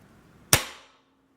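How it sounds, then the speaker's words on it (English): A Traditions Shenandoah muzzleloader dry-fired with no charge: the hammer falls once in a single sharp, close metallic snap that rings out briefly in a quiet room. "I hate dry firing this."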